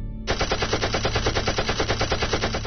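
A fighter plane's guns fire in a long, rapid, even burst of loud shots after a brief quiet start, a dense rattling stream that runs unbroken to the end.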